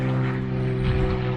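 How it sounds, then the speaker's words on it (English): A propeller airplane passes overhead with a loud, steady droning hum that fills the whole moment without letup. "Super loud airplane going overhead."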